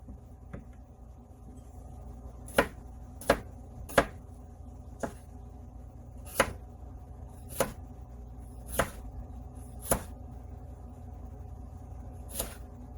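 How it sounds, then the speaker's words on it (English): A knife slices small potatoes into quarter-inch rounds for cottage fries, about ten sharp, distinct chops against a cutting board spaced irregularly over a quiet kitchen background. "Basically all I'm doing is making them about 1/4 of an inch thick. for my cottage fries."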